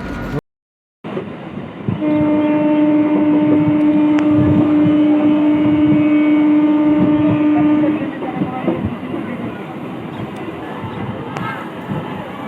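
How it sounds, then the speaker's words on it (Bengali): A passenger train rumbles across a railway bridge with a long, loud horn blast held for several seconds, then the rolling clatter of wagons continues as people talk nearby. "এই প্রথমবারের মতো নতুনপুর রেলওয়ে ব্রিজের উপর দিয়ে যাত্রীবাহী রেল প্রথমবার চললো"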